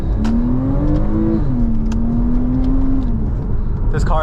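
A stock Porsche 987.2 Boxster Base without sport exhaust revs, its engine tone climbing and settling into a sustained steady whine, fairly muted, with a voice speaking over it.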